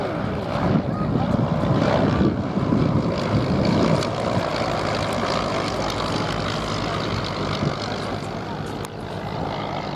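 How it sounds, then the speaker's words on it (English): Propeller aeroplanes, including a De Soto, taking off at an airshow, a loud buzzing engine drone with rumbling low end that stays strong throughout and eases slightly near the end. "The De Soto, the first of those 3 aeroplanes that just got away, has its own very rich history."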